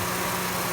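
A 2007 Jeep Liberty engine idles with a steady, even rumble and faint vibration, close by and unbroken, with no voices.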